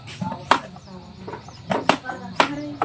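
A bread knife cuts through food in a few sharp chops, about four distinct strikes spaced unevenly, heard close and moderately loud with quiet talk in the background.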